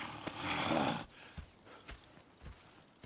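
Horses in the Red Dead Redemption 2 video game: a burst of hooves and snorting for about a second, followed by sparse clip-clop steps and faint shuffling at moderate distance.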